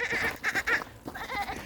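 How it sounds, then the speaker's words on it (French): Goats bleat close by on a rural outing, several wavering calls in quick succession with light outdoor background noise. "ils bellent parce qu'on va aller voir normalement des chèvres"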